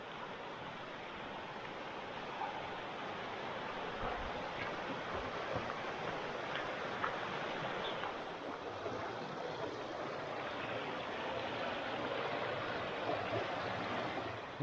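Water tumbling down the cascades of the Cladagh Glen river, a steady broadband rushing roar at even loudness throughout with no voices.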